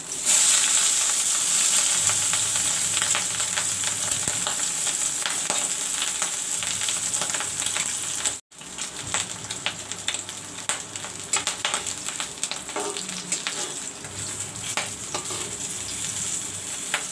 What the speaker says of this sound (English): And the third egg also, this way I will fry.